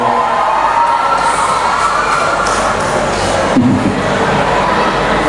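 A large crowd at a community youth gathering in Batam cheers and shouts together in a loud, sustained roar, with scattered raised voices rising above the steady din.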